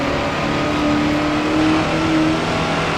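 A vintage race car engine roars steadily on the Dundrod road circuit in Grand Prix Legends, holding a loud, sustained drone with slight pitch shifts as the throttle stays open, heard alone without talk.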